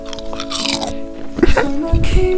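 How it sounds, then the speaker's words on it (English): A close, loud crunching bite comes in a couple of sharp crisp bursts with chewing noises between them, set against a faint steady hum. "Crunch."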